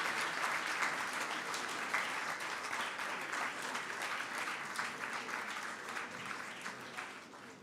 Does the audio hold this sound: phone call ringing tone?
no